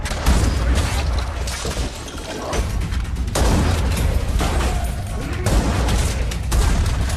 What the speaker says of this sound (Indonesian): membabi buta menembaki mereka semua